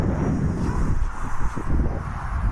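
Strong wind buffets the microphone during the windy maiden flight of a Rage RC Focke-Wulf Fw 190 model plane, giving a continuous, loud, rough rumble that gusts unevenly throughout.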